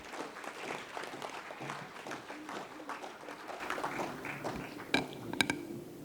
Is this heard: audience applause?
yes